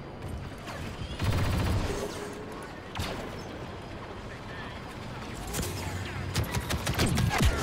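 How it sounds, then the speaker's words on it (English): Blaster fire from a Star Wars Battlefront 2 beta match, shooting at a box: bursts of sharp shots around the middle and a rapid volley near the end, over a busy, noisy game soundscape with talk throughout. "Okay, I'm shooting a box."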